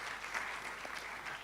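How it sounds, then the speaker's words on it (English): Distant, soft applause from the audience at a public medical lecture, a brief, even wash of clapping with no distinct individual hands. "Clap for them for me, please."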